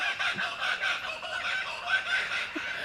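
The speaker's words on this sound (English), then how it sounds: "I think that's kookaburras today." Kookaburras call outdoors in a loud, continuous cackling chorus of rising and falling laughs that carries across the whole stretch.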